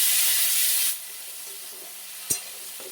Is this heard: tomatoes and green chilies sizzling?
yes